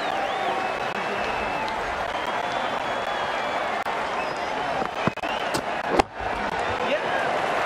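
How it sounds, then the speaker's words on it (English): An excited crowd at an England vs Ireland cricket match sustains a broad, loud roar of cheering throughout, with a few sharp slaps or claps near the end. "It's going to be hard for the bowler to focus with the crowd this excited."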